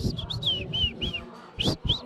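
A person whistles an imitation of amapiano whistles, a quick series of high chirping notes, several short rising-falling calls in a row, close and fairly soft.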